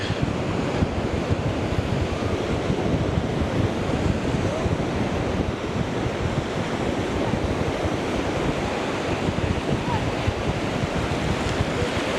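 Strong wind buffets the microphone nonstop over the roar of crashing surf on a Florida beach, loud and unbroken throughout.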